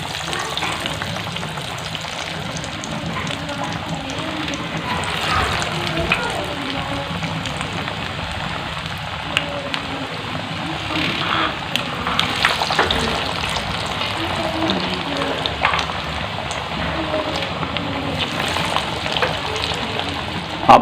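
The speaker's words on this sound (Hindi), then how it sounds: "एक बर्तन में ऑयल या घी ले लेंगे और उसको अच्छी तरह गर्म कर लेंगे और इसमें स्नैक्स डाल देंगे" Potato snacks deep frying in hot oil or ghee in a pot, a steady dense sizzle and crackle of bubbling oil that runs continuously throughout, fairly close and loud.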